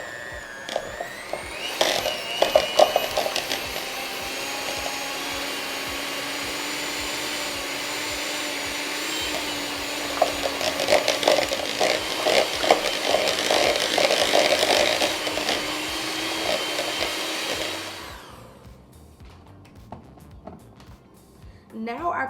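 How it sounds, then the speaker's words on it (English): An electric hand mixer beats cream cheese for a buffalo chicken dip, giving a steady whirring drone with brief clattering bumps that runs for about seventeen seconds, then cuts off, and a voice talks over it. "I'm just going to go ahead and beat this up with my electric hand mixer"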